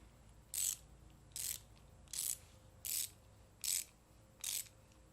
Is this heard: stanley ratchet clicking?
yes